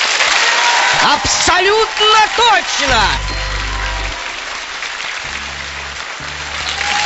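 Studio audience applause on the Pole Chudes (Field of Miracles) TV game show game: steady, loud clapping throughout, with an excited voice speaking over it.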